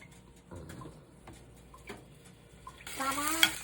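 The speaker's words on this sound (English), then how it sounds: "I'll add my vegetable oil. Put in my onion." Onion goes into hot vegetable oil in a pan. Quiet clinks and light stirring give way to a sudden bright sizzle that swells over the final second.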